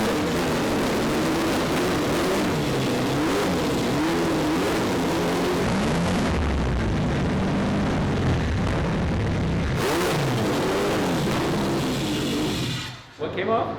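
A turbocharged 12-rotor rotary engine roars continuously at close range, a loud dense drone with shifting, wavering pitch as it revs, cutting off abruptly near the end; voices are faintly mixed under the noise.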